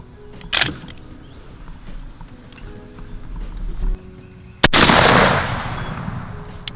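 A shotgun fires a 3.5-inch Winchester Blind Side shell outdoors: a sharp blast that booms and rolls away, preceded by a few smaller clicks and knocks of handling.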